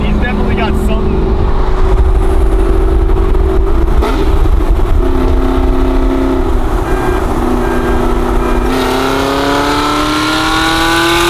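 A loud, fast new car accelerating hard, its engine roaring steadily with rising pitch and a gear change near the end, close and continuous.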